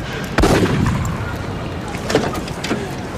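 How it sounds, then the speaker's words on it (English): A single sharp, loud bang rings out and decays, followed a couple of seconds later by fainter distant pops amid background rumble. "that was a gunshot."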